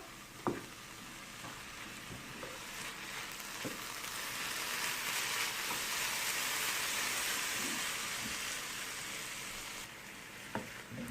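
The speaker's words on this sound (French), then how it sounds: "je fais mijoter le tout environ 3 à 4 minutes" Vegetable and eggplant stuffing simmering in a pan, giving a loud, continuous crackling sizzle that swells gently in the middle, with a few faint knocks and scrapes from stirring and no voices.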